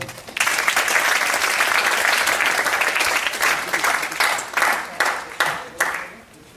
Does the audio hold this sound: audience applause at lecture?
yes